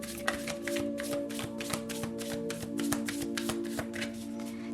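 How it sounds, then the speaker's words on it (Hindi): Tarot cards are shuffled by hand in a steady run of quick riffling flutters and soft slaps, close and fairly quiet, over a faint background hum. "तो चलिए शफल कर लेते हैं"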